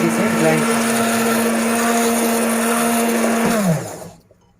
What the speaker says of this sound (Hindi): आपके पास कोई भी इलेक्ट्रिक हैंड ब्लेंडर हो तो इसको इस तरीके से ब्लेंड करें।